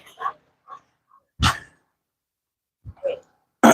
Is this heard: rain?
no